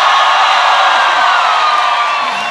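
A live studio audience cheers and claps for the winner, Andrés, at a Colombian comedy-show prize celebration, a dense, loud, continuous roar that eases slightly toward the end.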